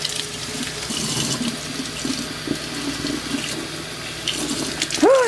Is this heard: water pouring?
yes